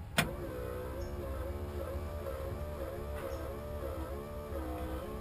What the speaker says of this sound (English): Put an electric fuel pump on this years ago.